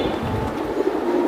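Fancy pigeons for sale, Giribaz and silver birds among them, give a brief low coo, fairly close, against a soft background hum.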